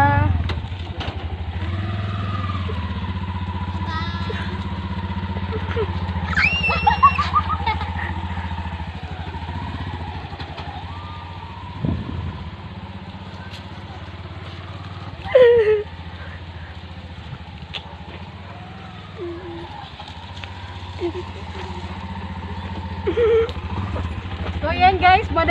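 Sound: Bajaj RE auto rickshaw engine while driving

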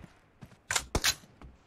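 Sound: weapon reloading in PUBG video game

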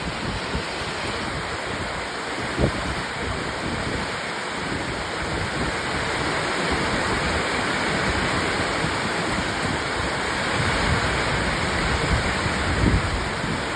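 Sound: rain

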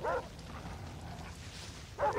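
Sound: dogs barking and whimpering in video game Far Cry 3

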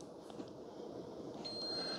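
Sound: Ninja CFN601 coffee maker beeping when brew ends

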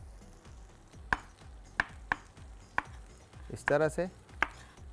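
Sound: knife dicing tomatoes

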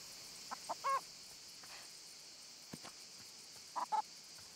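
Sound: hen clucking in the video game Everdream Valley

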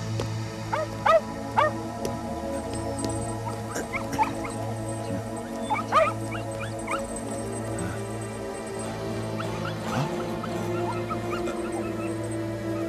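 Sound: dogs barking and whimpering

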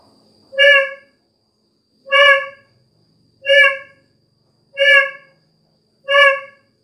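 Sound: D25 twisted horn sounding

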